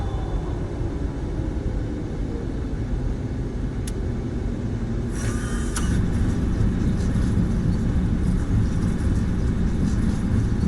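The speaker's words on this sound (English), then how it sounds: "Good touchdown on Autopilot." An airliner on autopilot touches down on runway 32 at Halifax in Microsoft Flight Simulator during an ILS approach through wildfire smoke. Steady loud engine and airframe rumble, a brief bright screech at contact, then heavier rolling roar.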